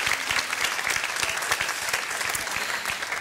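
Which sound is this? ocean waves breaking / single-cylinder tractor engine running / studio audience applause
studio audience applause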